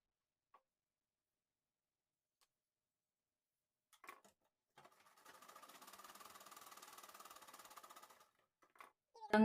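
Sewing machine stitching a blouse, a few faint ticks and clicks first, then a steady rapid run of stitching for about three seconds, followed by more light clicks and a louder clatter at the end.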